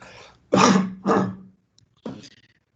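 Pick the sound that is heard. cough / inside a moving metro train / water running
cough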